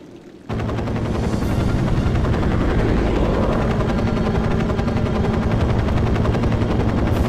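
A helicopter's steady rotor thrum roars loud and constant in the 007 Nightfire video game, mixed with rapid machine-gun fire throughout, starting abruptly after a brief quiet moment.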